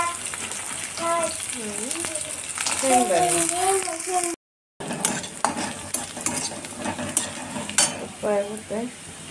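Mustard seeds, cumin, green chillies and curry leaves sizzle and crackle in a hot pan for Marathwada-style kadhi, with steady frying hiss and occasional stirring clinks while someone talks over it throughout.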